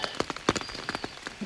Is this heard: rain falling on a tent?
yes